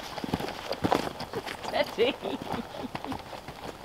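Hooves of a horse clip-clop along at a steady walking pace outdoors in open scenic country, close by, with someone speaking over the hoofbeats.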